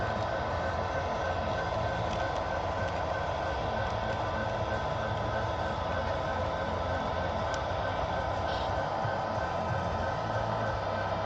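Model trains rumble steadily around a small loft layout, a continuous close clatter of wheels on track with no pauses and no voices.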